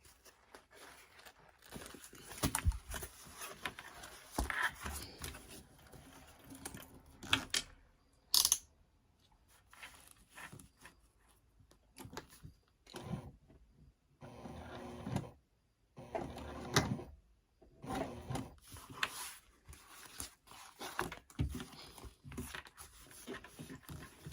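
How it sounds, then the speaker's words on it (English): A domestic sewing machine top-stitching through vinyl and lining for a crossbody bag runs in repeated rattling bursts separated by short pauses, close and mechanical, with faint handling noises in between. "Now I'm just going to top stitch along the vinyl."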